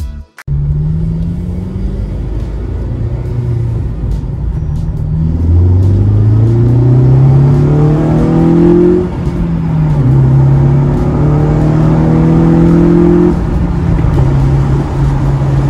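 A 2009 Honda Civic Si (FG2) with a solid shifter base bushing install drives and accelerates, its engine note rising loudly through several gears with brief dips at the shifts, heard from inside the car with no talk.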